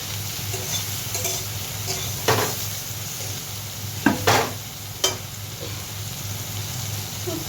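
Eggplant and sidol chutney sizzles steadily in a pan, with a few sharp clinks and scrapes of a spoon stirring against the metal at intervals.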